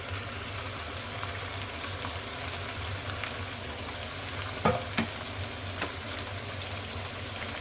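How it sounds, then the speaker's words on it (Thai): Steady sizzling of chicken frying in hot oil in a pan, a constant crackling hiss with a couple of sharper pops and clatters partway through. "ก็จะเอาไก่ลงไปทอดค่ะ"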